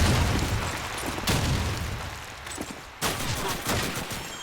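Gunfire from a machine gun in Call of Duty 2, loud continuous bursts of shots and booms filling the whole stretch, with sharp cracks standing out and brief lulls between volleys.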